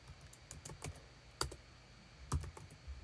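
Computer keyboard typing as a calculation formula is entered in Tableau Desktop, with soft, close, irregular key clicks at a low level and no voices.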